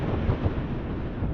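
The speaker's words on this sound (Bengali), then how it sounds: "ঠান্ডা বাতাস।" Cool wind blowing across open village countryside, a steady, close, low buffeting rush striking the microphone with no pauses and no talk.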